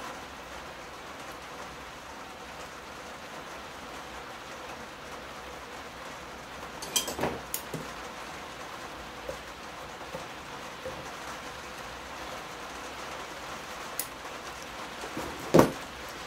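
Steady rain falls outdoors while bonsai ficus trees are being worked on, a continuous even hiss of drops with a few louder close drips and taps near the end.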